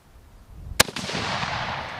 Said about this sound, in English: let me go ahead, put a few more rounds downrange